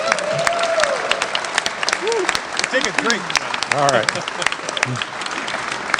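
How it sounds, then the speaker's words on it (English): Applause from a board meeting audience fills the room steadily, loud and dense, while someone speaks briefly over the clapping. "So now you can clap."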